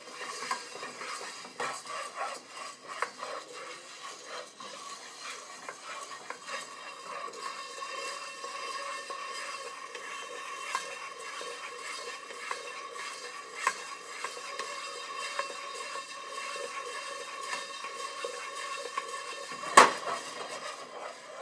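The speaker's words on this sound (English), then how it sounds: "We've been roasting for about 3 minutes now, and the beans are starting to turn yellow." Coffee beans roasting in a pan at home, stirred continuously at the early yellowing stage, giving a steady sizzling, scraping texture with light utensil clinks and one sharper knock near the end.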